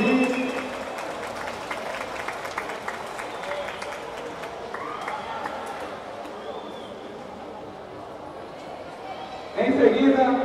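Audience at a futsal tournament opening applauding as teams are introduced, a crowd clapping in a large indoor hall under an announcer's amplified voice, with a fresh burst of claps at the end.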